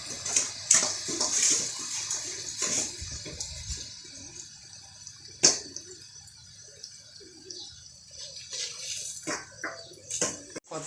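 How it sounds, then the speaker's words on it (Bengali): Rainwater drips drop by drop during a morning rain, with scattered sharp splashes and irregular wet patters standing out over a quiet background. "টোপ টোপ করে জল পড়ছে দেখতে পাচ্ছ এখান থেকে।"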